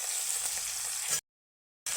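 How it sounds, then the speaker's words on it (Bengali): Snakehead fish (chang) fried lightly in oil in a pan in a village kitchen: a loud, steady close sizzle that cuts out for a moment, then sizzles again. "না হালকা হালকা ভাজবো, কড়া ভাজা হবে না"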